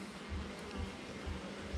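Bees at an open beehive during an apiary visit buzz in a faint, steady hum with low pulsing thumps, no voices present.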